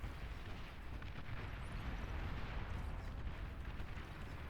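Bombing run in the Beyond All Reason strategy game, a continuous rumbling barrage of distant explosions blending into a dense low roar, steady and unbroken, no talking.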